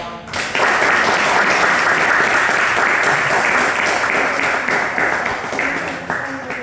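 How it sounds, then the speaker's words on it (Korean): Audience at a church ceremony, a missionary fund presentation and inauguration service, applauds steadily with dense, even clapping that starts sharply and holds at full strength for several seconds. "박수하겠습니다"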